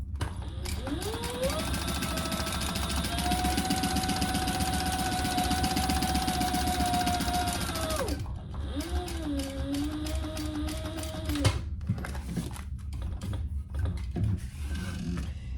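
Sewing machine basting a clear vinyl pencil pouch: a steady mechanical whirring run for about eight seconds, then a shorter stop-and-start burst of stitching with clicks, close and moderately quiet.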